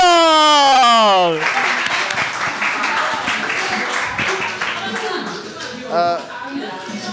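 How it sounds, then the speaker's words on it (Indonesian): Audience applause at an Indonesian talk show, starting after a sung or drawn-out voice fades, then a steady patter of clapping for several seconds with a voice briefly rising near the end. "boleh kalau gitu kita kasih tepuk tangan dong."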